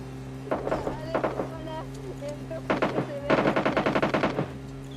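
Automatic gunfire from PUBG Lite, a mobile battle royale game: short bursts of rapid shots, then a longer sustained volley near the end, loud and close over a steady game background hum.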